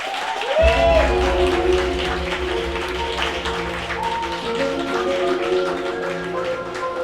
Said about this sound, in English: can I get a warm round of applause, please?